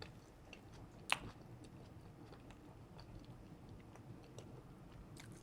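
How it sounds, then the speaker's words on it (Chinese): Someone chews a small bite of homemade filled pastry, faint soft mouth sounds with one crisp bite click near the start, close and quiet without speech. "浅尝一小口啊"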